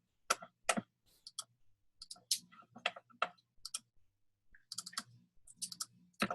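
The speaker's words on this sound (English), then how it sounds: "So we come down here and we click on purchase order." Sharp, dry computer mouse clicks while working in QuickBooks, scattered irregularly, some in quick doubles and clusters, close and distinct against near silence.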